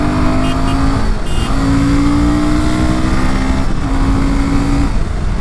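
A Royal Enfield Himalayan 450 motorcycle on off-road tyres accelerates hard. Its engine note holds loud and close for the whole stretch, climbing steadily, with rushing wind noise beneath and no talking.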